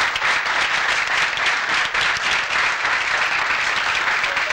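An audience applauds steadily for a master-ji being welcomed to the stage at a gathering, many hands clapping in a dense, even roar that holds loud from start to finish.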